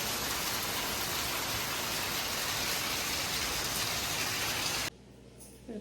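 Heavy rain pours down in a dense, steady roar close by for about five seconds, then abruptly drops away to quiet background.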